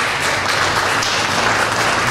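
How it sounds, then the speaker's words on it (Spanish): An audience at a closing ceremony for an international cooking workshop in Zacatecoluca gives a dense, steady round of applause that fills the whole short stretch. "Recibimos con un fuerte aplauso"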